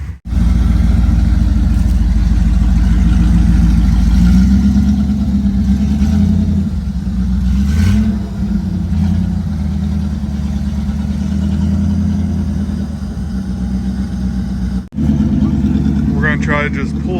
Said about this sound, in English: So we're gonna have Austin winch him back